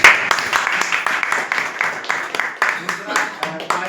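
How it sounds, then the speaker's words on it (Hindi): An audience at a motivational event claps for Nand Kishore with a steady run of sharp, closely spaced claps, while a speaker's voice carries over the applause. "नंद किशोर सर के लिए बहुत अच्छी जबरदस्त तालियां"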